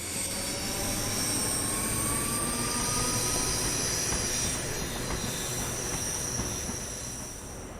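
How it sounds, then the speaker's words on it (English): British Rail Class 314 electric multiple unit 314-206 runs into Mount Florida station on a service for Neilston. A loud, continuous rumble of wheels on rail carries a high, sustained squeal, easing slightly near the end. "Now at Mount Florida on the 19th of July 2019, 314-206 heads into the station with a train for Neilston."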